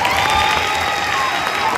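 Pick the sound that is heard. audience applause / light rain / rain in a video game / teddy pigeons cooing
audience applause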